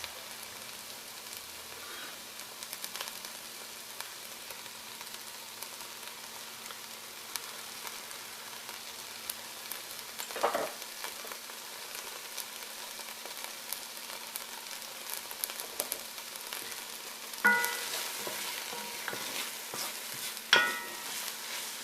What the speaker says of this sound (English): So I'm going to add in the garlic and let that start breaking down.